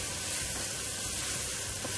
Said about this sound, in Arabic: ندي تقليه مع البصل برضو